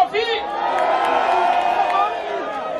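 A crowd at a Kenyan political gathering cheers and whoops loudly in a sustained burst, with voices shouting over the continuous roar.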